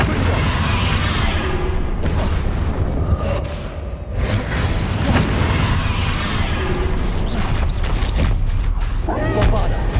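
Confringo fire-blast spell bursts in Hogwarts Legacy combat: repeated booming impacts and whooshes amid dense battle noise, loud and continuous with voices.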